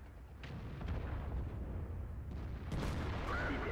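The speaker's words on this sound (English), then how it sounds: "now we're going to fire a few heat rounds to take out the enemy Jagdpanzer E100." HEAT rounds fired from a tank in the video game World of Tanks, aimed at an enemy Jagdpanzer E100: a low, continuous booming rumble with a few muffled cannon thumps and a burst near the end, fairly quiet overall.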